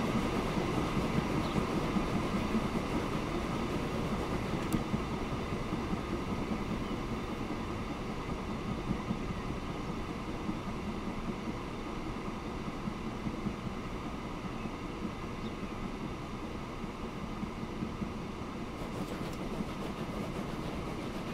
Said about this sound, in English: I'll see if I can get this train out onto the track